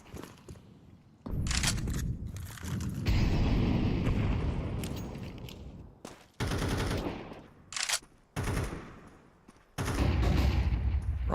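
Bursts of rapid gunfire and loud flashbang blasts from a Counter-Strike professional match, dense and continuous for stretches, broken by short near-silent gaps, with no talk over the action.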